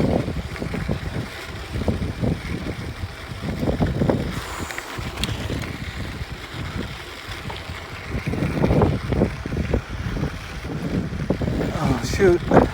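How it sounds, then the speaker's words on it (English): Steady wind buffeting a microphone during a high mountain bike ride, a continuous rough rumble with riders talking throughout. "Oh yeah, wind noise."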